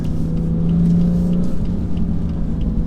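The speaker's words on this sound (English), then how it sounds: "Bit of wheel spin, a lot of wheel spin" A 2018 BMW M3 Competition spinning its wheels, with a loud, steady engine drone and a sustained whine held for about a second before easing off, close and continuous.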